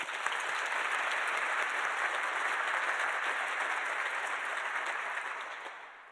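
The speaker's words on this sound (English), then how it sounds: "but please give her a round of applause." Round of applause from an evening awards audience at a health-profession school event, for an absent award winner; loud continuous clapping from a full room, steady for several seconds before fading at the close.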